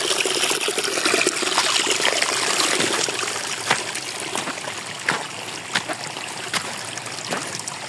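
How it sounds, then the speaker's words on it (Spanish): Water from a small river trickles and seeps away beneath a stone somewhere remote, making a steady close hiss of dribbling flow with a few sharper splashy ticks. "poco a poco se va perdiendo el agua por ahí, por la piedra."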